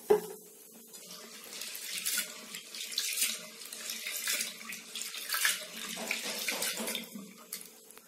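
Toor dal being rinsed with water inside a pressure cooker: steady running-tap water splashing and swishing for several seconds, close and fairly loud, with no voices.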